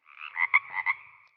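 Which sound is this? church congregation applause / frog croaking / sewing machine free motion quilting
frog croaking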